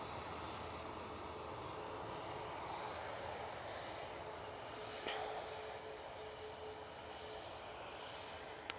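A Jet2 airliner in .com livery departing Manchester Airport, heard as a steady, broad engine roar that holds at an even level throughout, moderately distant and with no talk over it.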